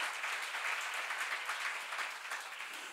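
Church congregation clapping during a sermon, a soft, distant wash of applause that stays fairly even for a few seconds.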